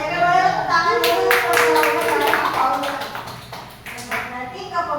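Audience of participants clapping hands at an organizational skills training session, a run of sharp claps under overlapping voices, with people talking loudly over it.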